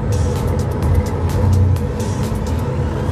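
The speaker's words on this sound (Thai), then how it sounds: "เดี๋ยวยังเหลือกดคันเร่งยาวๆนะ ว่ามันจะเทอร์โบทำงานประมาณไหน" A car with all-wheel drive and a turbocharged engine pulls hard with the accelerator held down, giving a steady loud engine drone and road roar that stays level for a few seconds with no talk.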